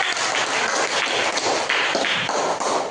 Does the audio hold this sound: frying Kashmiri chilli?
no